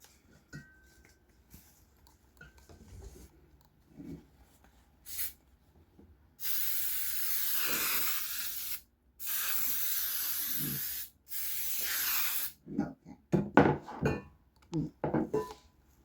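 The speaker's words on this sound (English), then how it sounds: "So I'm going to be spraying this pan." Long steady hisses of aerosol baking spray onto a cake pan, three sustained bursts separated by short pauses, with light clinks of the pan before and after.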